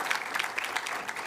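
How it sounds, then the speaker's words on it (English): A college audience claps at a Gettysburg College event, a brief dense burst of steady applause heard up close without a break. "I'd like a round of applause for Jeffrey Blavitt"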